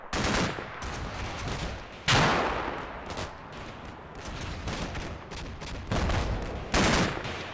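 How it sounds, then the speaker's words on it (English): A Bradley fighting vehicle fires in the Combat Mission Black Sea wargame: heavy, booming bursts of automatic fire with sudden loud onsets that roll on between shots, and nobody speaking. "lots more Bradley fires"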